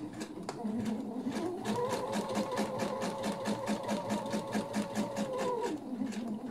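A sewing machine stitching a seam in a silk pillowcase at a 3 mm stitch length, its rapid even needle clatter running steadily for several seconds, close and clear, with a faint voice behind it.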